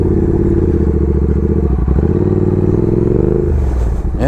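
A Triumph Speed Twin motorcycle rumbles continuously at low speed offroad, its loud, close engine note wavering slightly with throttle and a few bumps and clatters.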